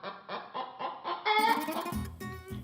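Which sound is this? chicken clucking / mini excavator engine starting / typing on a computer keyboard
chicken clucking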